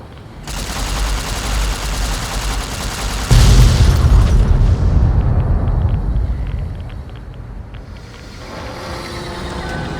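Explosives detonated in Fallout: New Vegas give a loud rumbling blast with a deep boom that swells, then a long crackling, roaring decay that fades into a lingering low rumble.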